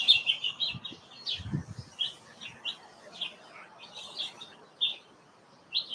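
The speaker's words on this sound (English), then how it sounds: "Listen to all those beautiful birds." Birds chirping and singing outdoors with doves nearby: bright repeated tweets and short calls come and go over a quiet background, with a brief low murmur near the start.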